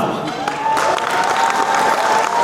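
Wedding guests clap steadily in a sustained burst of applause at a celebration, close and fairly loud, with voices mixed in underneath.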